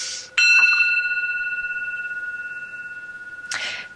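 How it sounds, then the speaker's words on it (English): A meditation bell struck once, ringing with a clear sustained tone that slowly decays over several seconds, after a brief breath-like hiss at the start and a soft rustle at the end. "when you hear the sound of the bell, let the tone calm you"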